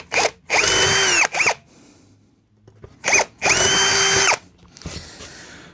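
A power drill with a 1/8 inch bit bores holes during an amplifier build, in two separate bursts of high whine with short spin-up and spin-down blips around each, quiet gaps between and a final short burst.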